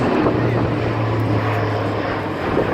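An Airbus A400M turboprop transport at the Farnborough air show gives a loud, steady engine drone with a low tonal hum, continuous throughout.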